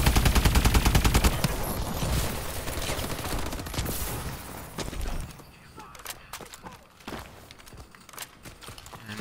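AK-5 rifle fire rattles in rapid bursts in a video game shootout, loud at first and then thinning into scattered shots and clatter.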